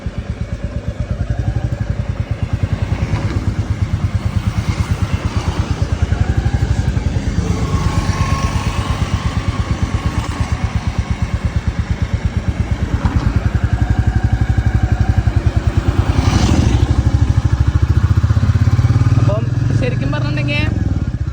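A Royal Enfield Bullet 350 motorcycle engine thumps steadily nearby, rising slightly as the bike pulls away in first gear, with someone talking over it.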